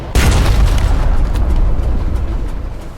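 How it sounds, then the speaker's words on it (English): A torpedo explodes against an enemy ship in the Sunless Sea video game. It opens with a sudden, loud, deep boom, then a rumbling roar that slowly fades over about three seconds. "Let's chase him with our torpedoes."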